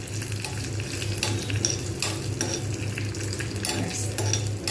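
A spice tempering for matar dal fries in hot oil, with a strong continuous sizzle and crackle heard close up, steady throughout and without talk.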